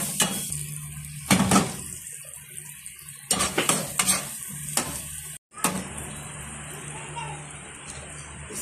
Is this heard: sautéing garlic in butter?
yes